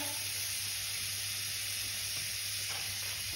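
Butter sizzles steadily in a hot pan as a lemon caper sauce begins, a soft, even frying hiss with no speech over it.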